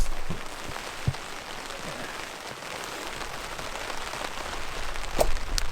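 Heavy rain falls steadily on a tent and tarp at a campsite, a dense patter with occasional louder drips, close and continuous throughout.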